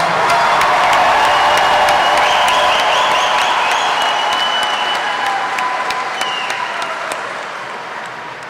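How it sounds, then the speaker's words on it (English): A large audience at a 2018 university commencement ceremony applauds for bachelor degree graduates, dense continuous clapping with scattered cheers that slowly fades toward the end. "Let's have one more big round of applause"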